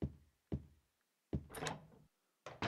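A broken door in the video game Silent Hill 3 (PC version) rattles and thuds as it is tried, giving four separate heavy knocks with short silences between them, nearby and alone.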